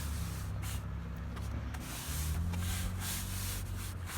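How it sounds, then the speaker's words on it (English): Polymeric sand being swept into the joints of interlocking pavers with a brush, a close gritty scraping in repeated diagonal strokes over a low steady hum. "you want to try and pull the sand back or brush the sand back at a diagonal angle"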